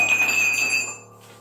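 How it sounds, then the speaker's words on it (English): A mug drops onto the floor and survives intact, giving a single bright ceramic clink that rings like a small bell and fades away within a second. "How that mug didn't shatter all over the floor remains a mystery"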